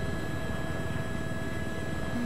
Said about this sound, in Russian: У нас спереди тут вертолет едет.